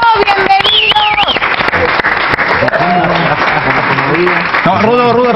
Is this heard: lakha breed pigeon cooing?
no